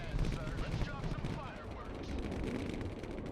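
Jet air strike munitions in the Broken Arrow video game slam into enemy positions, giving a dense, continuous roar of blasts and gunfire, loud and close, with radio-style voices talking over the barrage.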